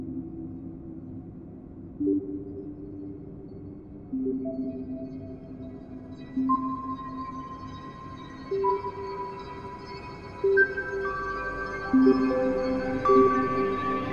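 Electronic sound piece made to represent the brain assembling itself: sustained low sonar-like tones with pings stepping upward in pitch every couple of seconds, gradually building layers of bright tones over about fourteen seconds, no voices.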